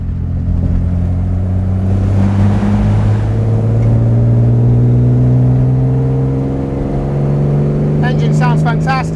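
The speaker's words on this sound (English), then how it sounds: "Engine sounds fantastic." A 1963 Aston Martin DB4 engine pulls hard along a country road out of a village, its steady low drone rising smoothly in pitch as the car accelerates and staying loud and close throughout, with brief chirps near the end.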